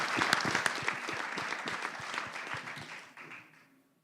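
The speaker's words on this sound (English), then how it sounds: "I think they all deserve a huge round of applause as we get ready to hear from them." Audience applause at a pre-race press conference for an IRONMAN 70.3 World Championship, a burst of many hands clapping that is fairly close, then thins and fades out over about four seconds.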